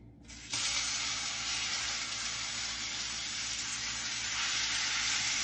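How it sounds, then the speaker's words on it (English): A beef roast searing in a hot pan for a pot roast, a loud, steady broadband sizzle that bursts in suddenly after a quiet moment and holds evenly to the end, with no talking. "we're gonna sear both sides of the roast"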